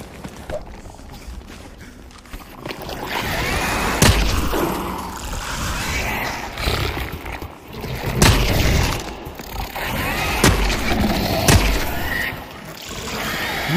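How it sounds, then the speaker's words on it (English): A grenade detonates in the shooter game The Cycle Frontier, one of several loud booms and gunfire bursts amid busy battle noise, with brief speech in between. "I might have a grenade. I have a grenade. I'm throwing grenade."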